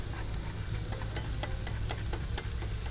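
Garlic frying in a pot on a boat, a busy sizzle with scattered sharp crackles and pops, fairly quiet, steady throughout.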